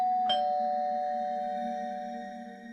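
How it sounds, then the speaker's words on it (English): A doorbell rings once, a sharp strike followed by a clear, sustained chime tone that slowly fades, loud and close in an otherwise quiet space. "I heard the doorbell ring."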